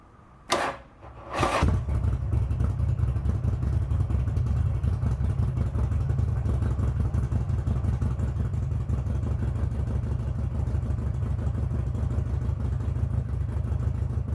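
Buell XB motorcycle engine warming up at idle, a steady loud low rumble that starts after a couple of brief clunks and runs on unbroken, close by, with no talking.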